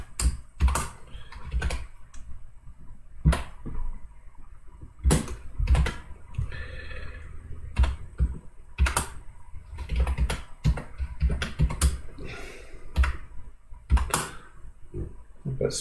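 Rapid, irregular typing on a computer keyboard while a layout is being coded, with clustered sharp clicks and brief pauses throughout, fairly close and no talking.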